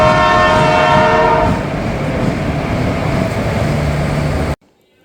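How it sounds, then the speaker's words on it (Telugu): A passenger train running from Thiruvananthapuram to Kanyakumari sounds a loud, sustained horn over a heavy rolling rumble; the horn fades after a second or so, and the steady clatter of the cars continues until it cuts off abruptly near the end. "పొద్దున్నే లేచి ట్రైన్ అయితే ఎక్కినాం"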